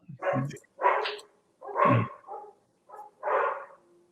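A dog barks in five or so short, loud bursts at close range, with brief pauses between them and no talking.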